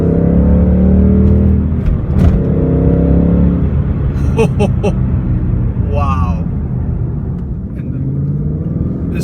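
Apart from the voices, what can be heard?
2016 Ford Mustang GT engine revving and accelerating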